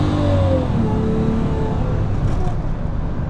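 A Jaguar XJS with a V12 and six-speed automatic accelerating under more throttle, a steady, smooth, loud engine drone heard from inside the car.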